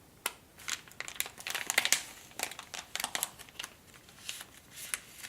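A small aged paper note is worked out of a package, giving close, crisp crinkling and rustling in quick irregular bursts with no talking.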